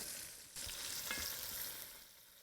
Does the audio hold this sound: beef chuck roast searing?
yes